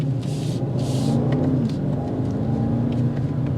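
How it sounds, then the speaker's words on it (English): A 2023 BMW X5 M50i V8 exhaust heard from inside the cabin, a steady low rumble and drone under acceleration, continuous and fairly loud, with no talk. "The exhaust note is a symphony that comes inside."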